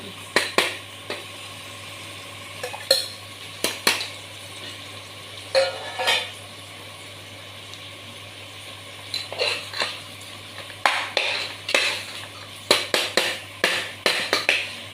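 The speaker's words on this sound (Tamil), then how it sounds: "இப்போ தக்காளி ஆட் பண்ணிடலாம்." Tomatoes go into a pan for fish kuzhambu, followed by repeated clinks and scrapes of a spoon against the pan in irregular bursts over a faint background hum, with no talk.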